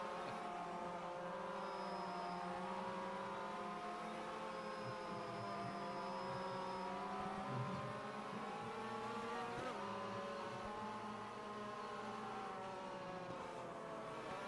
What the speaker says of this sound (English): It's me trying to warm up the brakes.